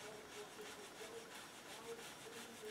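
Light, rhythmic back-and-forth rubbing on a textured wood bird inlay makes a soft, faint scratchy swish that repeats evenly.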